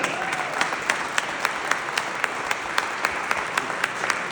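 A conference audience applauds warmly, a steady, even roar of many hands with regular louder claps poking through at a brisk rhythm, sustained without letup.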